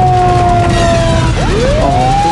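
Loud, close police car siren wails and rises in pitch during a pursuit through narrow residential streets, over heavy rumbling engine and road noise.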